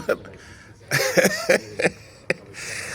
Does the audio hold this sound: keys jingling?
no